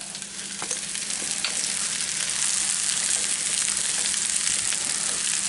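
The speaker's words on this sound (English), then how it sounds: "So we're just basically over here frying up rice right now." Rice fries steadily in hot oil, a loud continuous crackling hiss with occasional pops and faint stirring, no voices.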